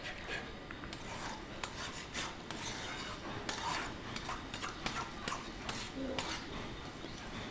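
A spoon mixes egg into mashed eggplant bharta in a bowl, giving a steady close rasping and scraping with small repeated clicks throughout.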